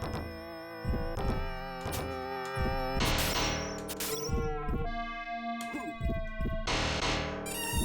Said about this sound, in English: one of the coolest things about this really raw FM synth style is how it sounds like really flatulent